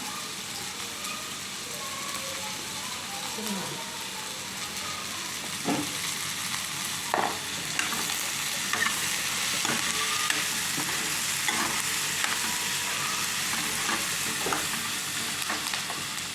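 Tadka fries in a pan for palak paneer, giving a steady, even sizzle with a few sharp clicks and taps from utensils scattered throughout, with no voices.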